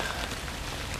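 Rain falls steadily on surfaces during a winter bonsai repotting outdoors, a dense, even patter with no talk.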